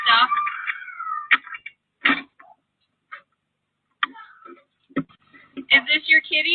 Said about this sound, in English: Is this your kitty? Your kitty?